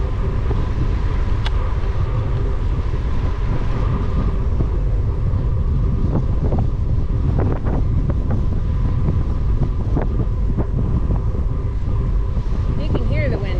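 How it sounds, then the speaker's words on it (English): Wind sweeping in across an open lake along a hilly biking trail, a steady loud rushing roar buffeting the microphone throughout, with a few faint thin tones poking through. "You can hear the wind."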